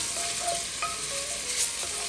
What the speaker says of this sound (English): you don't need to add any oil to kind of sear the bacon here